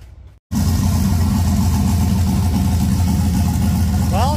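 A turbocharged 6.0 LS V8 swapped into a Chevy S10 cranks briefly after a short quiet moment, fires, and settles into a loud, steady, lumpy idle that carries on without interruption, with a brief high whine near the end.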